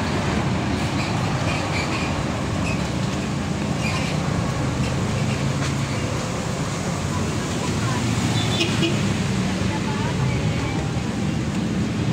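A large vehicle rumbles steadily past on a road, a broad, continuous roar that stays loud for the whole stretch with no clear start or fade.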